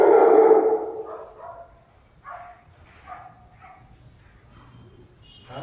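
A dog barks loudly at close range in the first second, then a few fainter barks or yips follow intermittently over a quiet background during dog training.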